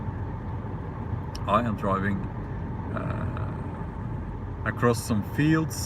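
A car drives along a road through open fields, giving a steady low engine and road rumble beneath continuous talking from inside the cabin.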